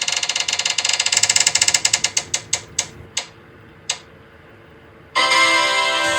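A prize spinner wheel spun during a map challenge game ticks rapidly at first, the clicks spreading out and slowing to a few final isolated ticks before it stops, followed by a loud burst of other sound.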